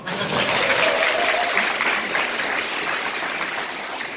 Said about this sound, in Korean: 박수 시원하게 한번 치는 걸로.